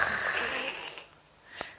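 A voice imitates a father's snoring with one long, rasping, wheezy inhale followed by a short snort, heard close and alone.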